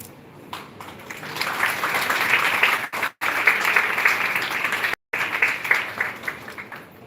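Steady audience applause at a live bioethics session, a broad wash of clapping that holds for several seconds with two brief cut-outs, no voices over it.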